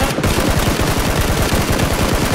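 Loud, close automatic gunfire in PUBG Battlegrounds: a rapid, unbroken stream of shots rattling on for over two seconds with no pause and no talk.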